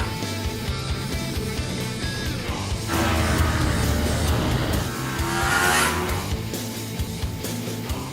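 A Kawasaki Ninja 400 sports bike rides with a steady engine drone and wind rush, rising in intensity mid-run as the rider accelerates.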